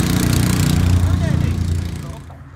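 An old military museum vehicle's engine runs in gear with a rough, throbbing low rumble up close, then winds down and fades out near the end.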